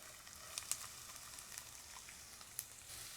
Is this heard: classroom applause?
no